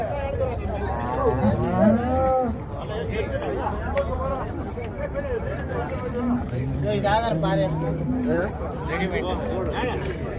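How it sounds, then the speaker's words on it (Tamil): Cattle moo repeatedly at a busy cattle market in Chintamani, Karnataka, where only cattle and calves are traded; several drawn-out lowing calls rise over a constant hum of crowd chatter and talk. "இந்த சந்தையில் ஒன்லி மாடுங்க மட்டும்தான் இந்த சந்தைக்கு வரும்"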